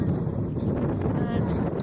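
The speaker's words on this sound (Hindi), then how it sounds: "बहुत तेज हवा है पूरे रास्ते, ये हवा बहुत तेज" Strong, steady wind buffets the microphone along a high mountain road on the route to Umling La Pass in Ladakh, a continuous low roaring rush with no break.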